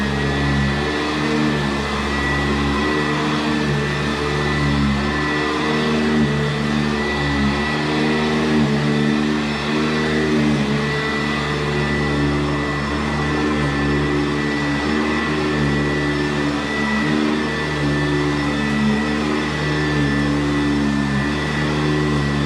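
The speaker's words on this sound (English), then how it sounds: "So let's get vacuuming here." A vacuum cleaner runs indoors with a loud, steady motor drone and whine that holds constant for over twenty seconds, nothing else breaking through.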